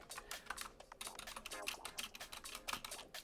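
Fast, steady typing on an old mechanical keyboard fitted with clicky blue switches, a dense run of sharp close-up clacks with no talk.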